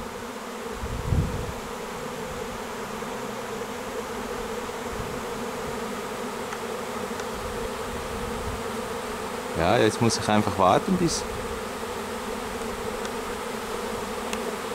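Honeybee swarm buzzing steadily outdoors in a meadow as it gathers into a cluster, a continuous droning hum throughout, with a brief clatter of handling noise midway and someone speaking quietly.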